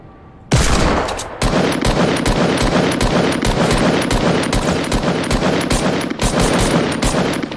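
Loud, rapid gunfire from the video game Fortnite, with continuous automatic bursts and repeated shots that fill the whole stretch after a short quiet opening.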